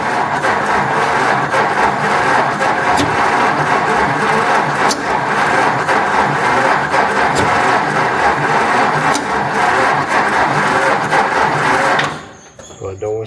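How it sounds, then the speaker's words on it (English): A pre-war jalopy gow job engine runs steadily at a rough, loud idle for about twelve seconds, then cuts out abruptly near the end. Voices talk over it. "Give it a little gas, take a little timing out."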